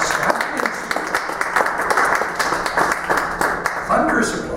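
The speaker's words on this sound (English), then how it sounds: "Thunderous applause, thank you." Church congregation applauding, a dense steady wash of clapping with sharp individual claps, moderately close, with a voice briefly rising over it near the end.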